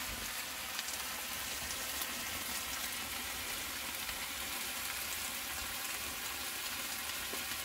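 Pork medallions fry in a pan over an open wood fire in damp, rainy woods, a continuous steady sizzle and crackle at low level, with no voices.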